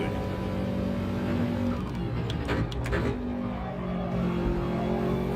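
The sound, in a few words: racing car engine in a driving video game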